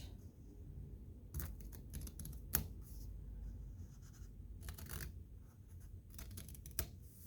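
Scissors snip paper for a swirly paper ornament, cutting in a spiral strip without going all the way through. Short crisp cutting strokes come in quiet bursts at close range, with no talking.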